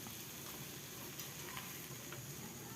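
Masala-coated pomfret fish fries in hot oil in a pan, giving a soft, steady sizzle with faint crackles throughout.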